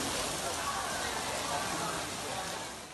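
Heavy rain pours down steadily during an island-wide downpour that caused flash flooding, a dense, even hiss of falling water that stays faint and distant and tapers slightly at the end.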